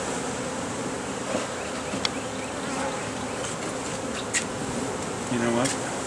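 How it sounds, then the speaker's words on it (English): A dense, steady drone of many buzzing honey bees fills the air up close, with a few brief knocks and faint sounds over it. "You can see the bees are kind of reacting already."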